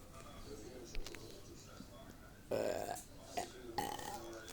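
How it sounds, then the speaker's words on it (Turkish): A close, loud burp erupts midway, followed by a couple of shorter gulping burps, over quiet room noise during a gaming session. "Oha oğlum geğirme bir."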